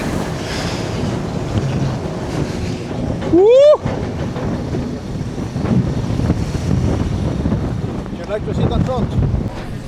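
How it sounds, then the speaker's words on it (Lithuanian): Strong wind buffets the microphone in a constant low roar, with a brief rising squeal and a voice nearby, suggesting an open deck on the water, leaving Antarctica. "o čia tai vėjukas"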